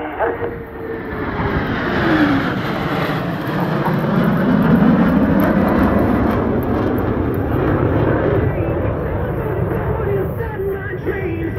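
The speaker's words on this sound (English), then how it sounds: "all 4 pilots will simultaneously roll their aircraft 360 degrees as they perform the Diamond aileron roll" Four Blue Angels jets fly a diamond aileron roll at an air show, a loud, sustained jet roar that swells and shifts in pitch as the formation passes, with crowd or announcer voice underneath.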